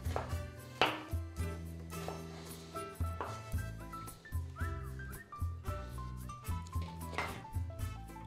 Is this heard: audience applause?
no